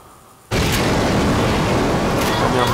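A grenade launcher blast in the video game Resident Evil: The Darkside Chronicles, beginning as a sudden loud boom after a short quiet moment and rolling on as a dense, sustained roar.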